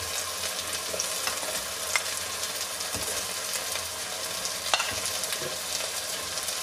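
Beans tipped into a hot pan sizzle and fry steadily while a utensil scrapes and stirs through them, close and continuous with a few sharper clinks, for a Portuguese-style rice and bean dish.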